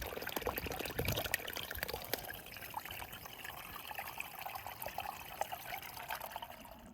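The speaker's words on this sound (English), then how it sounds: "So I'm gonna get water here at the spring." Spring water trickles and splashes from a small leaf spout along the Appalachian Trail, a soft, continuous close-up babble with a brief louder pour near the start.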